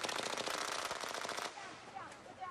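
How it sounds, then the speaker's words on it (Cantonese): Rapid burst of gunfire rings out from inside a tour bus during a hostage standoff in Manila, in heavy rain, heard from about 30 metres away. Dense close cracks fill the first half, then give way to rain and crowd noise. "突然間，車裡面傳出連串嘅槍聲。"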